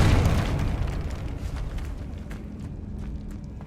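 A Confringo fire spell bursts in Hogwarts Legacy, a loud booming blast at the start that rumbles and fades into a lingering low roar, with faint crackles and a few light thuds following.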